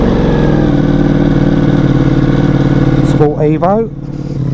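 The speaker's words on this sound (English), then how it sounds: "Dry clutch, making a bit of noise." A Ducati Multistrada V4 RS sits idling, its dry clutch rattling over a steady, loud engine drone, while someone talks close by near the end.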